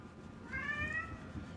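A single drawn-out cat meow rises and falls over a faint background hum, close and clear, lasting under a second.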